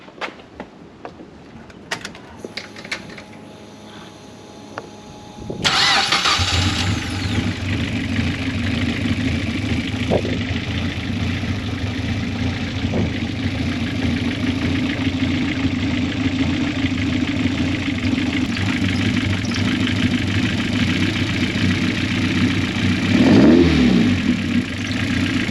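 Race car engine cranking over and firing up about five seconds in, then running steadily at a loud, even idle with a brief rev near the end, close by and without speech.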